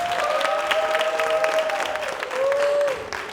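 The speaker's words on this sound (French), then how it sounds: "On va les accompagner avec des applaudissements, s'il vous plaît." Studio audience applauding at a television show taping, a steady wash of clapping with a few loud whistles rising over it, swelling again near the end before tapering off.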